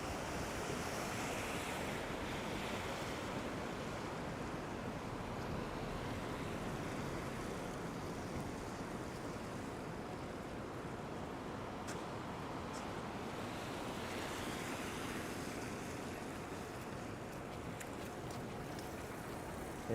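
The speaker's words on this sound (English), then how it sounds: "the wind is just blowing the rain" Gusting wind drives rain along a New York City street in Manhattan, a steady dense roar of wind noise and falling water with faint traffic beneath, continuous and enveloping without voices.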